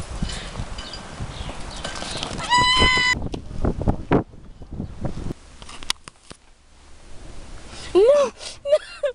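Sheep bleating as a story sound effect, with wavering bleats breaking through amid clip-clopping hooves, rustling and brief gaps of near silence; the bleats are loudest near the end.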